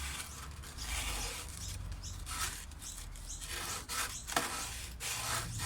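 Sandpaper rubs slowly inside a new sound port cut into a mandocello body, a soft continuous scratchy rasping with a few faint scrapes and clicks, close but quiet, with no talking.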